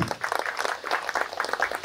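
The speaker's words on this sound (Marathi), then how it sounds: "विजय जोगमार्गे यांच्यासाठी सगळ्यांनी टाळ्या वाजवायच्या" An audience at a Marathi literary meet applauds Vijay Jogmarge, with a dense, steady round of clapping from many hands filling the room throughout, with no talk over it.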